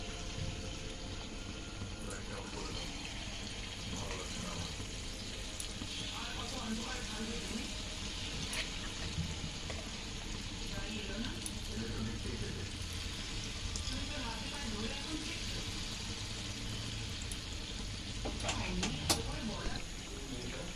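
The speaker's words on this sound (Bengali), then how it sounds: "এই যে কড়াইতে আমার তেল গরম করা হয়ে গেছে" Palm fruit fritters deep-fry in hot oil in a kadai wok, giving a dense, continuous sizzle and bubbling that holds steady for the whole stretch, close and alone with no talk.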